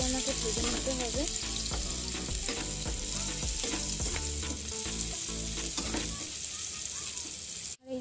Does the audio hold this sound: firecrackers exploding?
no